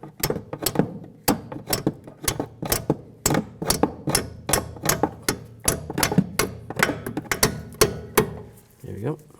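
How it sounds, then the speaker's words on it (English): Sharp metallic hammer taps seat a brake hose clip on the front strut assembly of a 2013-18 Nissan Sentra, about twenty close, loud strikes in an uneven rhythm with brief pauses between bursts. "Take the clip, slide the clip in position, and just take a hammer and just give it a tap."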